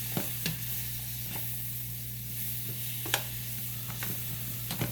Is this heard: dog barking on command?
no